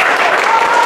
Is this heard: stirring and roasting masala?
no